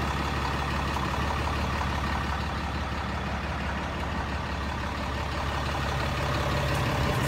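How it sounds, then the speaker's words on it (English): A Cummins turbo diesel engine idles in a 2015 Ram 3500 Laramie pickup, giving a steady, loud, low rumble that holds constant throughout with no other sounds over it. "It is a Cummins turbo diesel engine."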